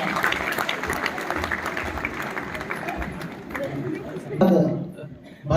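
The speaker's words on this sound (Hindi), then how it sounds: "बड़ा जोरदार तालियों के साथ में सम्मेलन का आगाज" Applause opening a Hindi kavi sammelan (poetry gathering), a steady wash of clapping from the audience with crowd chatter mixed in, swelling louder near the end.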